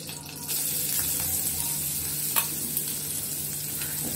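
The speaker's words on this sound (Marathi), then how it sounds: "त्यात आपण घेतलेला कांदा टाकू." Onion frying in hot oil with popping mustard seeds in a tempering for a Marathi snake gourd bhaji, a steady close sizzle with a few sharper crackles and light stirring, no voices.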